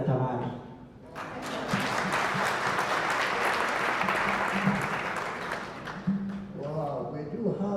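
An audience at a report launch on girls' equality breaks into a steady, full round of applause, with a voice heard before it starts and again as it dies down.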